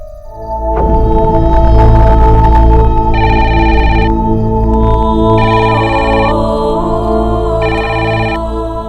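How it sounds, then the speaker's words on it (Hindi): A telephone rings loudly and steadily over a sustained music bed in a Hindi TV drama home scene, its repeating electronic ring bursts recurring in regular pairs with no talk. "फोन अगर आएगा ना फिर से तो आप उठा लेना"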